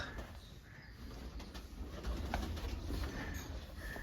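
Faint pigeons cooing in a loft, soft repeated low calls with light rustling and scattered clicks in a quiet enclosed space.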